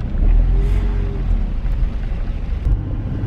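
Cars idle in a traffic jam at a roundabout, a heavy low engine rumble heard close by, steady with slight surges and no voices.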